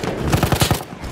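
Enemy machine gun fire in the video game Battlefield 1: a rapid burst of about five or six evenly spaced shots in quick rhythm, moderately loud and close, over steady background battle noise.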